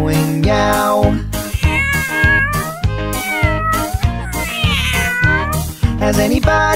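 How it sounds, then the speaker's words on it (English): Cat meows repeated loudly in a rhythmic sequence of tonal calls within a children's nursery rhyme song, with music throughout. "The cat goes meow meow."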